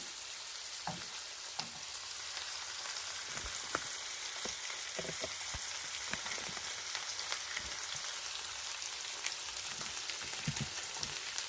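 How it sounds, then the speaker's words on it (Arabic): Sliced champignon mushrooms sizzle steadily in a hot pan for a chicken cream sauce, an even crackling hiss with scattered small pops and light stirring scrapes throughout. "هنا غنقلي هاد الشامبينيون"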